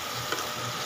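Sliced garlic and onion fry in a pan, giving a steady, quiet sizzle that holds evenly through a very brief moment with no voices.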